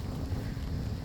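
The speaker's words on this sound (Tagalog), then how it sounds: "Kung nakikita niyo po, sobrang lakas ng hangin." Strong wind gusting on a road, a faint, steady low roar buffeting the microphone, continuous and unbroken with no talking.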